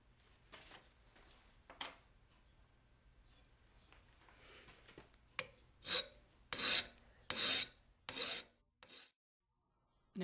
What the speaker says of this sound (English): you need to bevel off the cutting edge to about 15 degrees